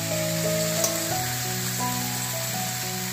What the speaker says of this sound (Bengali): আর দেখো বন্ধুরা, চিকেনের জন্য মশলা কষানো হচ্ছে